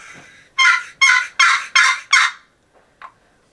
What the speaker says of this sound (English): I'll kind of show you how I use a box call to locate.